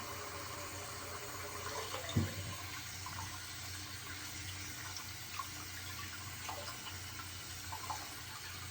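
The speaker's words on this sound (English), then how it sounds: "All right, you can start rinsing." Hands are rinsed under a running tap, a quiet steady splash of flowing water with a few small splashes and no talk.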